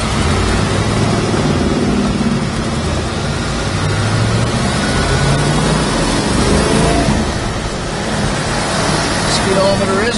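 A 1966 Chevrolet Chevelle driving along a road, heard from inside as a loud, steady engine and road roar with wind noise, continuous throughout with faint talk beneath.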